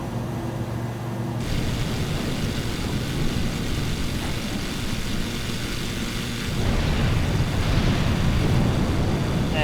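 A propeller airplane engine drones steadily inside a flight simulator game during a stormy flight over the Bermuda Triangle, a continuous moderate roar that swells slightly toward the end, with no talking.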